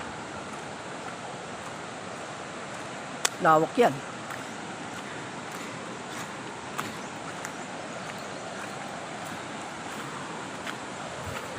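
A clean river in Bicol flows steadily as a soft, broad wash of water noise, with wind buffeting the microphone and a brief spoken remark near the start.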